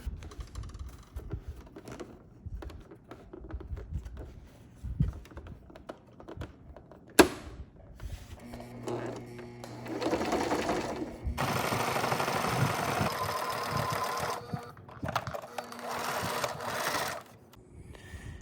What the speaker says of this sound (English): we're gonna put it back through the machine